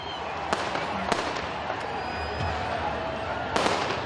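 Fireworks launched by protesters at police in Paris crack and pop in sharp, separate bursts, three or four loud reports spaced over a few seconds above a murmuring crowd outdoors.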